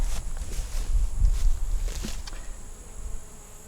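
Honeybees drone at a hive, a close, steady buzzing that swells and fades as insects pass near, with a few faint rustles and taps among them.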